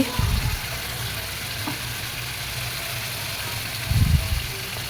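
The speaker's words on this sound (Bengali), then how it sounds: "সুন্দর করে আমার শুটকি আর মাছগুলো কষানো হচ্ছে" Dried fish and fish pieces stir-fried in a pan, with a steady low sizzle and two bursts of louder stirring and scraping at the start and near the end.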